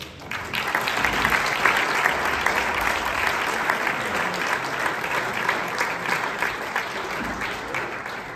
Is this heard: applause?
yes